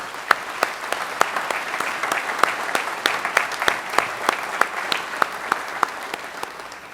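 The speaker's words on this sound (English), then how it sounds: "Just a round of applause for this great class." A graduating academy class receives sustained clapping from a ceremony crowd, sharp individual claps standing out over a dense, steady wash of hands for the whole stretch.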